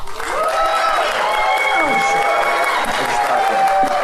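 Audience at a live podcast taping applauds and cheers in a steady wash of clapping and whoops, with voices calling out over it.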